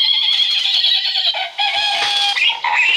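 A horse neighs on a farm, a loud, close, high whinny lasting about three seconds with wavering pitch, heard alone.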